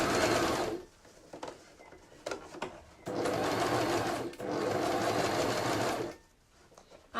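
A domestic sewing machine stitches a zigzag in reverse on scrunchie fabric, running in steady loud bursts with short pauses and small clicks between runs.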